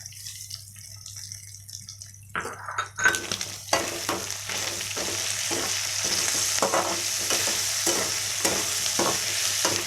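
Mutton stirred and fried in a pan with green chillies and curry leaves: a steady close sizzle that grows after a few seconds, broken by repeated scraping stirs of a spoon against the pan, with no talking.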